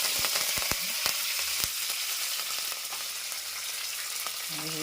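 Curry leaves and dried red chillies fry in hot oil with a loud, dense, continuous sizzle, dotted with sharp crackles and pops near the start, for a Telugu-style brinjal curry with tender tamarind leaves.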